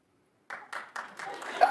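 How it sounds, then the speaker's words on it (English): Studio audience at a celebrity gossip talk show giving a few scattered claps that start after a brief silence and build into light applause with a hint of laughter. "Clap if you were disappointed in Kathy's performance"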